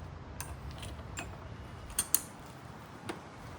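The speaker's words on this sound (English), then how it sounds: "I used a socket set to back out the bolt to the battery holder." A socket set ratchets out the battery holder bolt on a 2022 Honda CRF250F, producing faint, close, sparse clicks and ticks with a couple of sharper metallic snaps.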